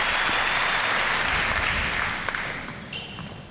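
Tennis crowd applauding at a 2004 Zurich match between Venus Williams and Ana Ivanovic, a dense steady wash of clapping that holds loud, then thins and fades toward the end.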